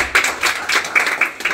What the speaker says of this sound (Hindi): ये ताली मार दिए इसके लिए।